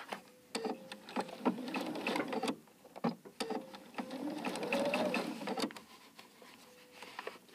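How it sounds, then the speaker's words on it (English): A sewing machine stitches binding onto a quilt in short rapid bursts of needle chatter, separated by brief pauses, close and moderately loud. "and I'll start sewing here."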